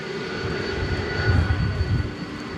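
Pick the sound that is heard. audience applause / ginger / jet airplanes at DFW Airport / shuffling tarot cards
jet airplanes at DFW Airport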